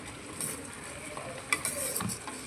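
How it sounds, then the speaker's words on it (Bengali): Spice masala with turmeric, chili and cumin powders being stir-fried in a pan, a quiet sizzle under soft scraping and a few light clinks of a spoon against the metal. "এবার ভালো করে মশলাটাকে আবার কষিয়ে নেব"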